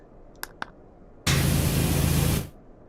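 In a video game, water rushes out in a loud hissing spray that lasts about a second, preceded by two faint clicks and then cutting off abruptly into quiet.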